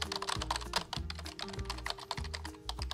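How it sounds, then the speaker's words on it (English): Rapid typing on a computer keyboard in a Peppa Pig cartoon, busy clicking keystrokes running steadily over a looping low musical backing with no talk. "I was typing on my mommy's computer"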